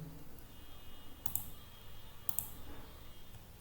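A computer mouse clicking while working in a web page editor, two or three crisp, sharp clicks spaced about a second apart over a quiet room background.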